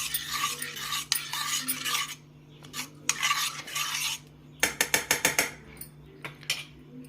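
A spoon stirs a ragi flour drink mixed with crushed green chilli, garlic, coriander and cumin powder, giving bursts of scraping and clinking against a bowl, with a quick run of sharp taps near the end.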